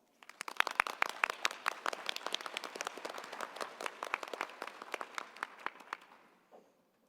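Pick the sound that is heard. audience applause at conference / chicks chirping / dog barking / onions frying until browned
audience applause at conference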